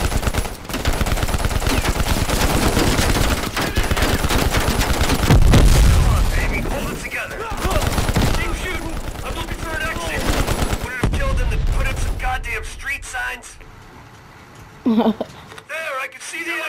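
Automatic gunfire and explosions roar through a Call of Duty: Black Ops Cold War vehicle escape, loud and continuous for about eleven seconds before thinning to scattered shots, with voices shouting over the battle.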